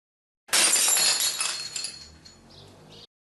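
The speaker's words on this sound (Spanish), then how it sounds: "Una taza de porcelana, que se cayó directo al suelo formando un ruido ensordecedor." A porcelain cup hits a hard floor and shatters with a loud, sharp crash. Bright shards tinkle and skitter for a couple of seconds before settling into silence.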